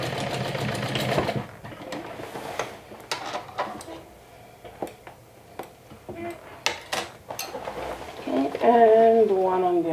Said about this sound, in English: I'm gonna do a little stitch here to hold it in place.